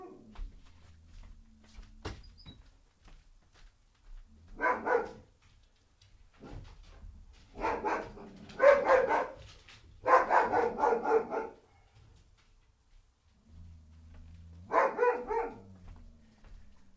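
Small dogs bark in repeated clustered volleys, fairly close and loud, with pauses between bursts and some low background rumble; a voice may be faintly present.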